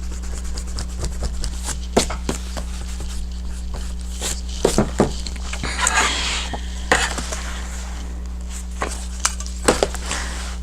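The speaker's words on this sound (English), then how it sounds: "this is why we keep a plastic eraser around" A plastic eraser rubs pencil marks off paper in a compact planner, giving short scratchy bursts of rubbing spread across the stretch with quiet pauses between, close and fairly soft over a steady low hum.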